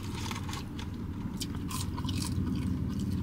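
Crispy, seasoned, battered fast-food fries being eaten up close: loud crunching bites and chewing with scraping, crackly texture, several crisp crunches in quick succession and no talking.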